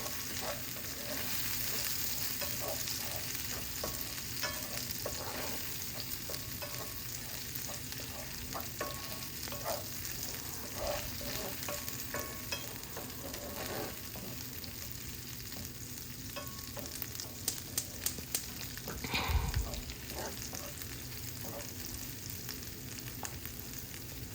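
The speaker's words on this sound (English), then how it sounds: "And now I added red onion." Red onion fries in a pan for chili paneer fried rice, a continuous soft sizzle with stirring scrapes throughout and a brief louder clatter near the end.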